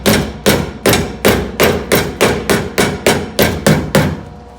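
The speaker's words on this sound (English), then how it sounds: "I am hammering it down" A hammer strikes VW Bus sheet metal about a dozen times in a steady, even rhythm, each blow a sharp, loud metallic bang close by with no talk.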